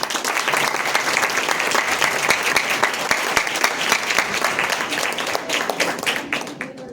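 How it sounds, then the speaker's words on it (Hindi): Audience applause at the inaugural session of a literary seminar on disability discourse, dense steady clapping from a large seated crowd that holds strong for several seconds before thinning slightly at the end. "मैं चाहूंगा कि कौल साहब के शान में मैं स्वयं ताली बजाना चाहूंगा, आप उसका समर्थन करें"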